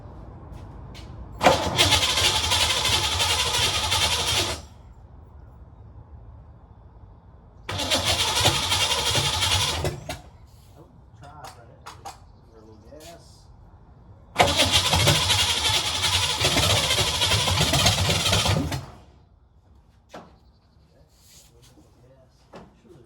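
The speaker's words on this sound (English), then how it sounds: "I just want to see if this engine's going to fire off." A 1985 Ford Mustang Fox body 5.0 V8 with open factory manifolds cranks and fires for the first time in 20 years, in three loud bursts of a few seconds each, and voices talk in the quiet gaps between them.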